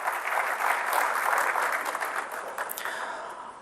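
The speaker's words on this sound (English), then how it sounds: "Would you please give a big round of applause, ladies and gentlemen, Kenneth David Kaunda" An audience at an African youth conference breaks into applause, a steady, fairly distant wash of many hands clapping that swells early and slowly thins toward the end.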